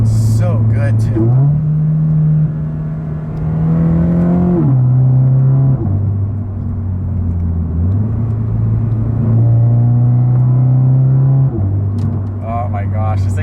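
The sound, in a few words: modified car driving on back roads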